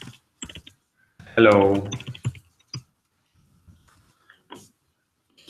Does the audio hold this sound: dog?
no